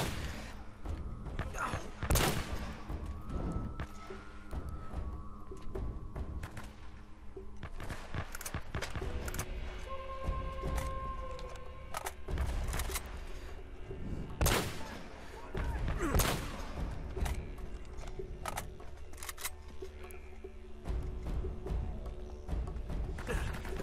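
Gunfight in Uncharted: Drake's Fortune, with sharp shots cracking out in scattered bursts over a dense, steady layer of game sound and music.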